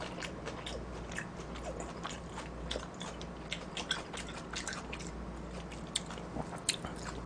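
Someone eating mulhoe, a cold raw fish soup, with close wet chewing and crunchy bites in an irregular rhythm over a low steady background hum, quiet and with no talking.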